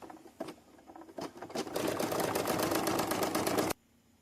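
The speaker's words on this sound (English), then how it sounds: "So we'll go ahead, put our needle down, press go, and watch it stitch." An embroidery machine sews a satin stitch around a corner bookmark in the hoop, starting with a few isolated needle taps before settling into a steady, rapid mechanical chatter that stops abruptly, fairly quiet and close.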